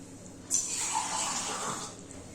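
Water is poured from a cup into a pressure cooker, starting abruptly with a close, bright splashing stream that lasts over a second and then tapers off, with no one speaking.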